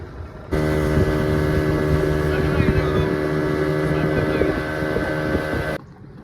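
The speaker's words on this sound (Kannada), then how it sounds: "ಇವರು ಬೋಟ್ ತಿರುಗಿಸ್ತಾ ಇದ್ದಾರೆ ನೋಡಿ, ಫುಲ್ ರೌಂಡ್ ತಿರುಗಿಸ್ತಾ ಇದ್ದಾರೆ" A motorboat swings round in a full circle among mangroves, its engine a loud, steady, close drone with a constant hum, wind buffeting the microphone throughout before the motor sound cuts off abruptly near the end.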